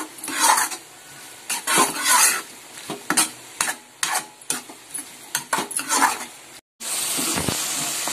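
Bitter gourd fries in a pan and is stirred with a utensil, giving repeated scraping strokes over a steady close sizzle, then a short pause and a burst of louder continuous sizzling. No one speaks.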